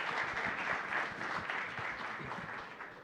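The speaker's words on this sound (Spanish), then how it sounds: "recibamos con un aplauso cariñoso a este panel" An indoor audience applauds to welcome a panel at a conference on the resilience of the national electricity system: a dense, even wash of clapping that tapers slightly near the end.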